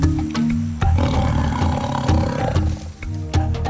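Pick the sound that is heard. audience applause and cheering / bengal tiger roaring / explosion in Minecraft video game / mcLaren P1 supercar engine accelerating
bengal tiger roaring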